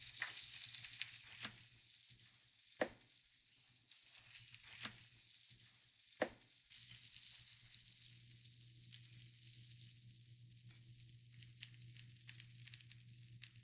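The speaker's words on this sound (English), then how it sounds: "But we're just gonna sear it on one side." Pierogi (varenyky) searing on one side in a frying pan with a little corn, salt and seasoning, giving a steady close hiss with a few sharp pops and clinks breaking through.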